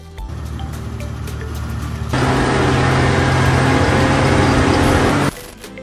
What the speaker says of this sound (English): during this process, the tool continuously sprays water on the marble being cut